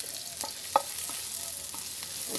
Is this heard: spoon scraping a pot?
yes